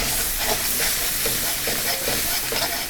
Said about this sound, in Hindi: 30 सेकंड के लिए हम लहसुन को भी सौते करेंगे।